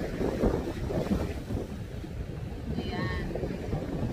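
Gusty wind buffets the microphone by a rough sea at the shore, with waves surging underneath in a continuous, moderately loud wash.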